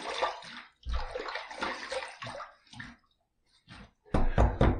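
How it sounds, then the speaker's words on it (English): Running water from a tap or basin splashes in uneven bursts as a face is wetted before a safety razor shave, close and fairly loud with short pauses between splashes. "let's wet the face"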